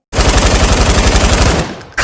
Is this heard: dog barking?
no